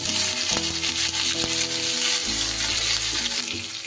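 Grated ginger dropped into hot oil with whole spices for tempering, sizzling loudly and continuously up close, with a few spoon clicks and stirring scrapes; no talking.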